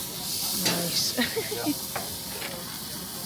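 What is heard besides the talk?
chicken sizzling on grill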